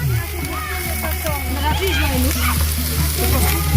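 Chopped onions sizzle and crackle steadily in a hot pan at an outdoor village picnic, close and loud, while a person talks over the frying.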